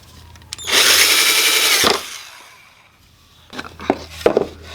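A power drill whines loudly for about a second as it drives a 1-inch screw into wood while building a wooden plant stand, then winds down, followed by a pause and scattered handling knocks and clicks nearby.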